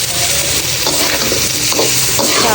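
Potatoes frying in spiced masala in a pan, a loud, dense, continuous sizzle close up, with constant stirring and no voices.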